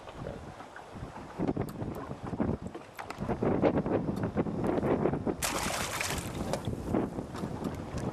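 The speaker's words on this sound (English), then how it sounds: "it's really windy this afternoon" Strong wind gusts buffet the microphone out on open water during a fishing outing, a steady roaring rush that swells louder through the middle and stays heavy to the end, with faint boat and water noise beneath.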